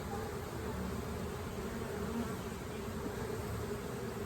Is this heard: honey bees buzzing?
yes